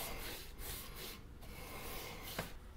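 Soft, close brushing of trim paint onto a wooden door frame, a quiet repeated rubbing swish in long strokes, low in level with no talk.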